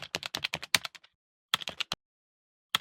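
Quick keystrokes on a computer keyboard, a fast burst of taps, a pause, then a few more clicks and a final single key, close and clean with no talk.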